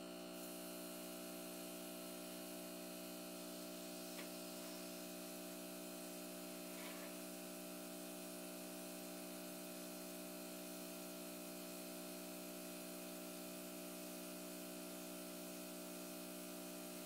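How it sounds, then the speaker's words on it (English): A hot pink airbrush sprays steadily onto a cake, a continuous fine hiss with a faint compressor hum beneath it. The sound is soft and unbroken, with no talking. "I'm going to start with a hot pink airbrush."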